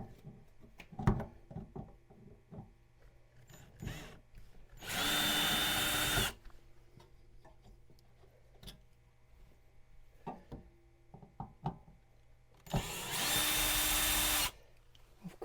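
Cordless power drill backing screws out of the legs of an RV dining table: two sustained high whirring bursts of several seconds each, close and loud, separated by clicks, knocks and handling noises, with no talking.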